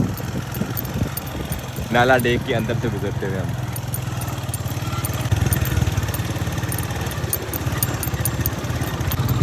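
Motorcycles and other vehicles cross a dry stream bed (nala) at a washed-out bridge site, engines droning steadily at moderate distance throughout, with someone talking over them near the start.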